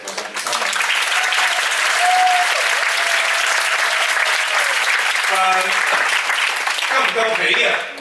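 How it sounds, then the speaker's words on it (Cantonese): A packed theatre audience applauds warmly at a musical stage show, steady dense clapping filling the hall for several seconds before tapering, with a voice briefly heard near the end. "請借你嘅掌聲，多謝台上面3位。"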